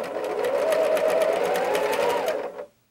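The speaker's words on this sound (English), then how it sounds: "sew them under your machine one after the other" A sewing machine stitches fabric seams in one steady, fast run of rapid mechanical chatter, close and clear. It stops abruptly after about two and a half seconds.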